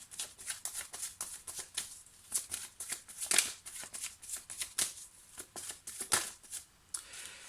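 Close, rapid riffling and flicking of a tarot deck being shuffled. The crisp card slaps continue steadily throughout at a quiet level.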